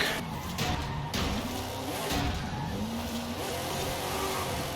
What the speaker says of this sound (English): Absolutely amazing driving from the Baja truck.